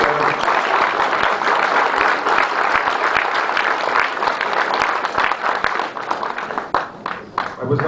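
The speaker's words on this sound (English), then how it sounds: "I was noticing my liberal friends weren't clapping quite as loudly" A crowd at a film screening applauds loudly and continuously, dense clapping filling the room and thinning out during the last second or two.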